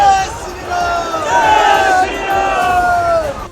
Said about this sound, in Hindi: इसके बाद नारेबाजी शुरू कर दी